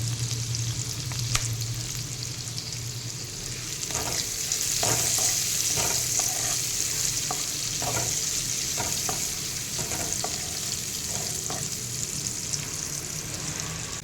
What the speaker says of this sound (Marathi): आणि शिमला मिरची घालूया आणि ते पण दोन एक मिनटं आपण परतून घेऊयात